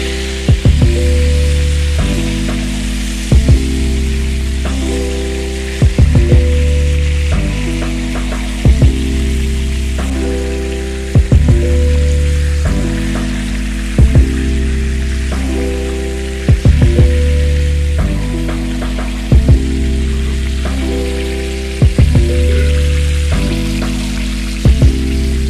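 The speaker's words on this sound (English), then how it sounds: "So these few pieces of fish are done, and I am frying the other fish," Fish frying in hot oil gives a continuous sizzle, with a few louder bursts of crackling at steady intervals.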